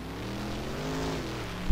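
Monster truck spinning a quick donut in the Rigs of Rods game: a steady droning engine hum holds throughout, closing with a brief loud thump.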